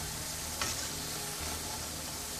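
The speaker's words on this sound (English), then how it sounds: "These will fry for about 5 to 10 minutes" Savoury ajwain shakarpara dough pieces deep-frying in hot oil give a steady, dense bubbling sizzle throughout, with one brief brighter crackle near the start and no voices.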